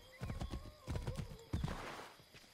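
A horse in the Assassin's Creed 3 video game gives a loud, close whinny while its hooves clip-clop in a quick rhythm, all within about two and a half seconds.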